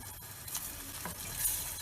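A steady sizzling, bubbling hiss of sauce with oil boiling in a pan on the stove for çökertme kebab, continuous and close, with faint clinks and no talking.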